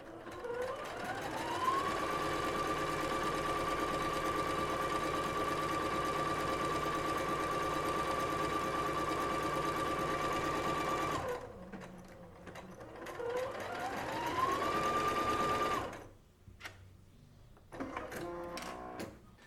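A Singer SE9185 sewing and embroidery machine runs test stitch patterns on fabric, a sustained whirring motor with a rising pitch at start, long steady runs broken by brief stops and a second shorter burst.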